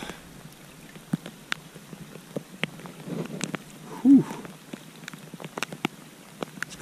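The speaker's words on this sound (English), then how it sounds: "It don't matter if it's raining." Rain falls during crappie fishing, heard as scattered light ticks and patters on nearby surfaces over a quiet background, with a brief exhale from a man.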